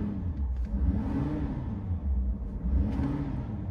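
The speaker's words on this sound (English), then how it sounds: "Give it a couple of revs here." A 2020 Ford F-250 XLT 4x4 with the 6.7-liter Powerstroke diesel revs at idle, a deep rumbling engine that swells and falls in a couple of throttle blips, loud and close.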